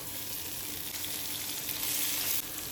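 Tomatoes go into a pan of softened onions and salt for paneer masala, and a steady, close, bright sizzle and hiss carries on alone without a break.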